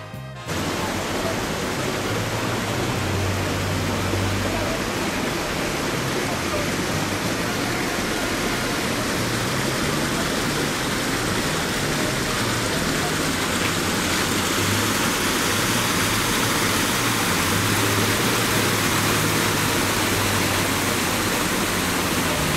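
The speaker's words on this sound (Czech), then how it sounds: "kde po pravé straně protéká voda." Water rushes continuously beside a staircase on Petrov hill in Brno in a steady, broadband roar, like a nearby stream or small cascade, with no break.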